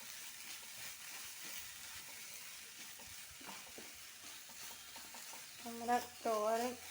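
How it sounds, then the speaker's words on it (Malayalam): Beetroot thoran frying in a pan in Kerala style: a faint, steady sizzle with soft, occasional stirring scrapes. "ഇടയ്ക്ക് നമ്മളൊന്ന് നോക്കണേ, ഇളക്കി നോക്കണം."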